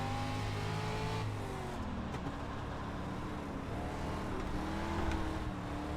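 Dirt street stock car in the iRacing sim at Weedsport, its engine droning steadily with shifting pitch as it slides sideways through a corner, throttle feathered; continuous, close and loud, no voices.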